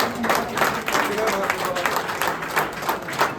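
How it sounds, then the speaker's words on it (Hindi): Applause at a prize-giving ceremony as a girl is announced first; dense, steady clapping from a crowd fills the moment with voices mixed in. "ताली बजाओ, ताली बजाओ भैया।"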